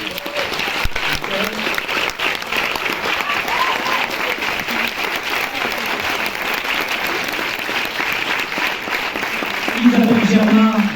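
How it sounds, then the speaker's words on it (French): A large audience applauds at a film presentation and discussion in a cinema, sustained, even clapping from many hands that swells louder near the end, with a voice briefly audible through it. "je vous demande de faire un tonnerre d'applaudissements pour Michel André"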